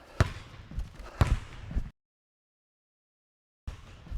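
A basketball dribbled on a court, several sharp bounces with quick rhythmic thumps, then a gap of silence before a faint return of sound.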